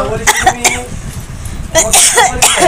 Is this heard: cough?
yes